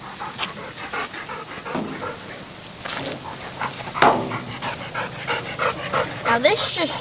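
Bella the dog pants rapidly and noisily close by on a farm, along with scattered rustling and clatter, while a person talks in the background.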